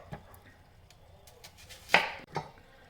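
A knife cuts through an onion on a cutting board, producing a couple of crisp, close chopping strikes amid quiet handling, clear and without speech.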